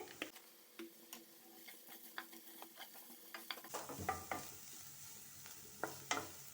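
Chopped onion sautéing in a pan while being stirred, with a steady low sizzle under repeated scraping taps of a utensil and a louder burst of frying partway through; no talking.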